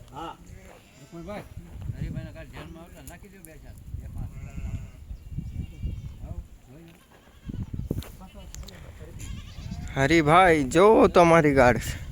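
Several sheep, a flock including lambs, bleat near and far, their wavering cries overlapping, louder toward the end, while people talk nearby.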